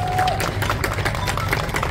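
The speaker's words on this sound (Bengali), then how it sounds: "সামনে বসে আছে সৃজিতের জন্য একটা জোরে হাততালি।" Audience applause for director Srijit Mukherji at a music launch event, a steady wash of clapping from a seated crowd with faint murmuring mixed in, continuous for the whole moment.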